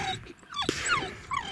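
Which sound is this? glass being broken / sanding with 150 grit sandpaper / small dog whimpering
small dog whimpering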